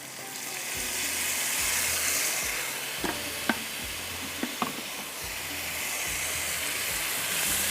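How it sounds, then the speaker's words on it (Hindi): Tomatoes sizzling in a hot pan for sobat, a dense, steady frying hiss close by, with a few brief clinks of a utensil against the pan midway. "ये टमाटर डाल देती हूँ।"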